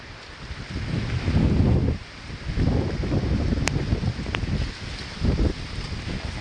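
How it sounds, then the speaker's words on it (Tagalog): Strong typhoon wind buffets the microphone in heavy, roaring gusts that rise and fall over a low rumble outdoors, with a couple of faint high tones briefly cutting through. "Ang hangin."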